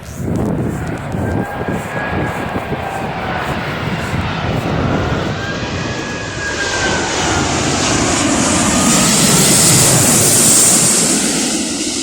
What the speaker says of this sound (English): It's the Emirates A380 about to land.